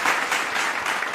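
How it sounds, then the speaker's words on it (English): A crowd claps in steady, dense applause at a live event, loud and close throughout the brief moment with no talk over it. "I feel like I make the crowd's clapping"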